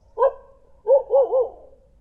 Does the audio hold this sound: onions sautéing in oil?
no